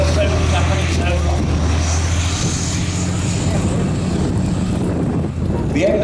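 The engines of M60 Patton tanks at a Tankfest display roar in a loud, steady drone with wind buffeting, and someone talks over them.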